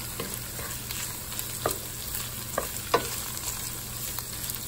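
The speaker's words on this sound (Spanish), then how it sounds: "ya las voy a revolver con la carne, ya para que se dore todo junto" Potatoes and steak sizzle and fry in a pan while being stirred, a steady close crackle with a few sharp scraping knocks of the utensil against the pan.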